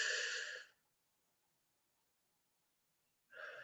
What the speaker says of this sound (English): One more time, deep breath in.